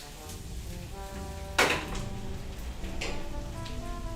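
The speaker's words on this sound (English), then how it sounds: "noises an onion makes when it's frying" Onions frying in a pot for white bean soup, a steady close sizzle with a sharp clatter partway through, no voices.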